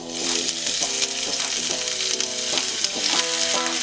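Steady oily sizzling of onion frying in vegetable oil in a pan, a bright continuous crackle with faint clinks, over soft background music, no talking.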